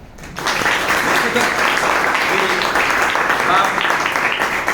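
An audience at the opening of an elocution competition bursts into sustained clapping that rises quickly and holds dense and even for several seconds, heard from within the crowd.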